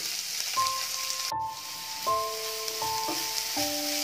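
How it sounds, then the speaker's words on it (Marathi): Chopped onions hit hot oil with browned garlic for a korla wild-vegetable dish, a constant soft sizzle running under clear stepped melodic tones. "आता मी 2 मोठे कांदे चिरून ठेवले होते ते टाकते"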